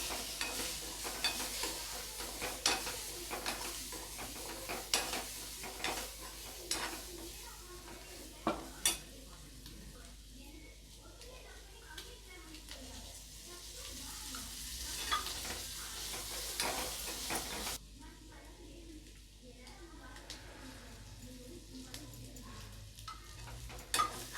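Boiled quail eggs fry in a spiced masala in a pan, a soft continuous sizzle broken by repeated scraping stirs and occasional sharp utensil knocks against the pan, fairly quiet and without talk.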